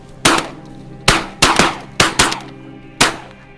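Shotgun blasts ring out during a bean goose hunt in Sweden, six sharp, loud reports in quick irregular succession, some nearly overlapping, each with a short echoing decay.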